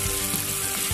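Steady, close sizzling of onions frying in hot oil, a continuous crackling hiss with no voices.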